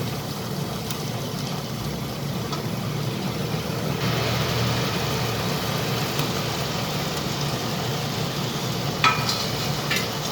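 A spoon stirs hand-mashed potato curry with spices in a pan for aloo puri sabji, making a steady low frying hiss and shuffle with a couple of light scrapes near the end.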